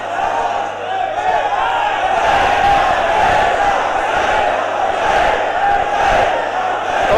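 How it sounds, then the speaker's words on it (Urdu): A large crowd at a religious gathering roars the Labbaik slogan in unison, a loud, sustained mass of voices with rhythmic swells throughout. "تینوں پتہ ہی نہیں لبیک دے نعرے وچ پاور کتنی ہے."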